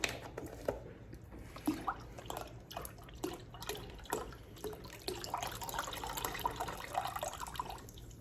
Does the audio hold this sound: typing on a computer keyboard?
no